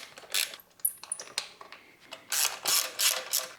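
Small 8mm bolts are loosened from the tail section of a Kawasaki ZX-4R motorcycle, giving close, quiet ratchet clicks in short runs with a few light metallic taps.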